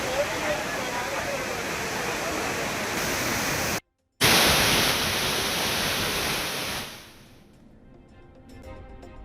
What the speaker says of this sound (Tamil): தொடர் மழையால் குற்றாலத்தில் அனைத்து அருவிகளிலும் வெள்ளப்பெருக்கு